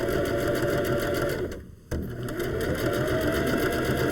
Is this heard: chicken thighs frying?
no